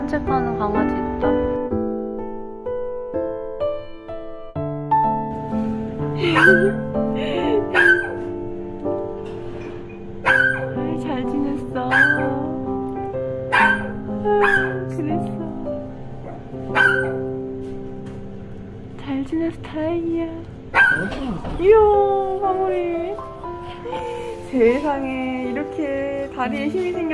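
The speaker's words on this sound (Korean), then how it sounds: "저기 산책 가는 강아지 있다." A dog on a walk barks, yips and whimpers in a series of short high-pitched calls, close and loud, mixed with steady emotional whines across the stretch.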